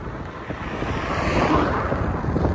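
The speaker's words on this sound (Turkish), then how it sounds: "Bir de kafadan rüzgar esiyor." A headwind blows across the microphone while riding a gravel bike on rural gravel roads between villages, producing a steady rushing buffet that swells slightly louder toward the middle, with no voices.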